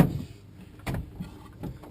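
A utensil drawer in a 1990 Starcraft pop-up camper slides open with a few soft rattling thumps and scrapes, close by and fairly quiet.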